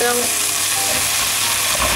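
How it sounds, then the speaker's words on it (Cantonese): Aubergine being stir-fried in a wok with garlic and chilli bean paste gives a loud, steady, close sizzle that runs for the whole two seconds, with no talking. "將呢切好咗嘅茄子咧就擺落去炒下佢啦"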